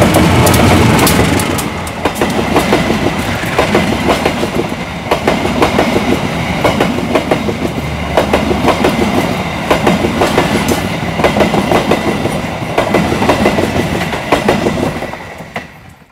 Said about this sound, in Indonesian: Jadi keretanya nanti kita lihat di sini